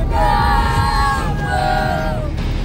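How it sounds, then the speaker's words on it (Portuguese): A crowd of supporters at a football match on a pitch in the Vidigal favela sings and yells in sustained, loud tones, with voices rising and falling together in a chant-like swell. "A torcida."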